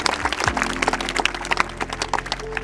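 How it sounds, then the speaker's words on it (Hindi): Children at a gurukul applaud for a boy, a brisk burst of many small hands clapping in quick, uneven rhythm, moderately loud over a low steady hum. "एक बार जोरदार ताली बजा लेंगे बच्चे के लिए।"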